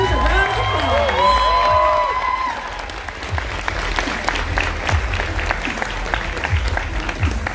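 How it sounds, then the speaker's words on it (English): Audience applause fills a cosplay competition hall at a fan expo, starting loud and dense with scattered cheers and whoops, then thinning into steadier clapping under crowd noise and an announcer's voice. "Give all these amazing arms a round of applause."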